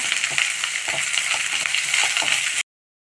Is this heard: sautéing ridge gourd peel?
yes